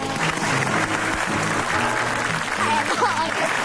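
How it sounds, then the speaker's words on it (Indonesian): Applause for the guest Eno Bening, a dense steady clatter of many clapping hands lasting the whole stretch, fairly loud, with a faint murmur of voices underneath. "Langsung aja tepuk tangan buat Eno Bening."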